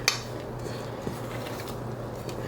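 Banana bread batter is stirred gently in a bowl, with faint scraping and occasional soft clinks of a utensil against the bowl over a low background hum.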